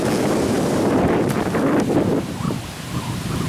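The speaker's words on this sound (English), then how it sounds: "I try to keep the wind from hitting the camera, but I don't think I can." Outdoor wind buffeting a camera microphone during a storm, a loud continuous low rumble with gusty swells that eases slightly toward the end; no talking.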